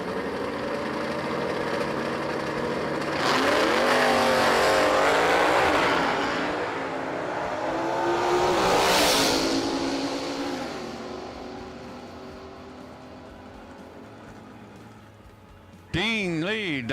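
A 1967 Chevrolet Camaro and a 1970 Chevrolet Camaro roar off the line at a drag strip, engines rising and falling in pitch through the gears, then fading into the distance as a track announcer talks over them.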